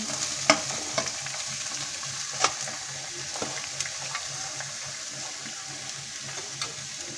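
Chopped onions go into a pan with garlic and ginger for bitter-gourd stuffing, and a soft steady sizzle follows with a few sharp clicks and scrapes of a spoon, close and moderately quiet, with no voices.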